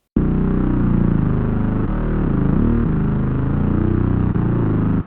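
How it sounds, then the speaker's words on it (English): A thick, buzzy detuned synth bass on a single oscillator drones continuously for several seconds, loud and up close, its pitch wobbling and bending slightly midway. "I'm doing like a detuned bass like this is"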